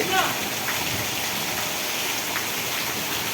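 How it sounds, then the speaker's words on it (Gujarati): Heavy rain pours in a constant loud hiss, drumming on surfaces, during a thunderstorm in Vejalka village, Ranpur, Botad district, Gujarat, with a faint voice briefly audible near the start. "ભારે વરસાદ પડી રહ્યો છે"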